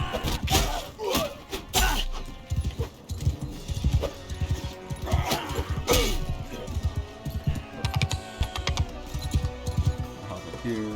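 Horse hooves in the Mount & Blade II: Bannerlord video game, a steady clip-clop of galloping mixed with battle clashes and crowd noise, fairly close and continuous.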